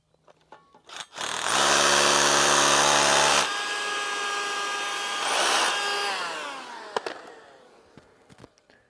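Power tool whirring as it drives 2 3/4 inch Tapcon concrete screws to lock down a bracket: one loud, sustained burst of steady motor whine, then a quieter, lower run and a few brief clicks, with no talking.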